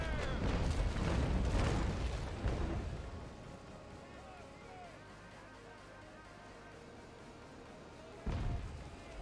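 Ship cannons fire in the naval battle game Naval Action, with heavy rumbling booms at the start and a fresh blast near the end, while a voice talks over the din.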